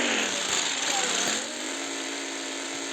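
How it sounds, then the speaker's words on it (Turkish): A motorcycle engine drones steadily while riding, a loud continuous buzz and road rumble close by that eases slightly partway through. "Arkadaşlar şimdi motosiklete bindik ve gidiyoruz."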